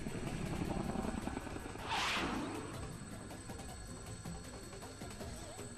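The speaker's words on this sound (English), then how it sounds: "the helicopter makes a sharp turn" A steady helicopter drone with a sharp whooshing swell in the middle, as if the craft banks hard, then settles back into its hum.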